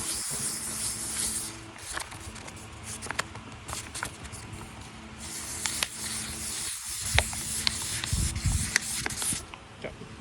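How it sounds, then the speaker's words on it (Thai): Rough sanding of the lacquer on a carbon-fibre car hood, a continuous hissing, rubbing scrape with uneven strokes and occasional knocks, close and steady throughout. "ขัดหยาบก่อนเบื้องต้น"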